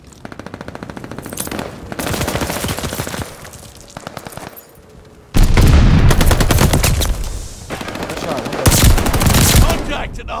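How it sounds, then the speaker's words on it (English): Automatic gunfire crackles in a video game firefight at a hard point, loud, rapid bursts from several weapons that stop and restart, with heavier close volleys cutting in midway. "Contact at the hard point. Out of window, window, window. Hard point's under fire."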